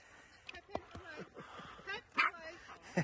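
Dogs at a residential German Shepherd training kennel give short yips, barks and whimpers in scattered bursts, mixed in with people talking nearby.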